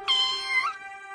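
A kitten gives a single high, drawn-out meow, close and clear, fading quickly into a faint steady tone.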